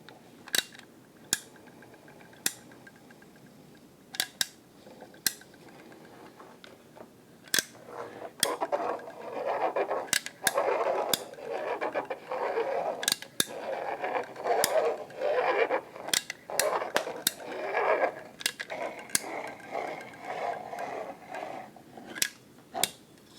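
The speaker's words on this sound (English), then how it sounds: "we're going to start by laying a bead of caulk right along the edge" A caulk gun lays a bead along a foam scenery board edge, its trigger giving sharp ratcheting clicks at irregular intervals, close and fairly crisp, mixed with faint squeezing and handling noises between them.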